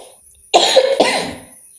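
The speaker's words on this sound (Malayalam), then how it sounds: "ചുമയും കേട്ടോ" Two loud, close coughs follow each other after a moment of near silence, with no talking.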